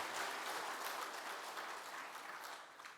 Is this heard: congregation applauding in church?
yes